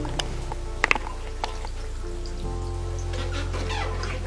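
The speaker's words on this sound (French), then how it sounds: "J'ouvre le robinet" Water pours steadily from an opened tap during hand washing in a village setting, a constant hissing stream that grows louder and fuller partway through, with a few faint clicks and drips over it.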